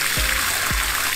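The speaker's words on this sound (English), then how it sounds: "You can hear the sound dropping the water from the intake water pipe." Water drips from the intake pipe of a gravity-fed river water pump, two distinct low plopping drops about half a second apart over a constant rushing flow.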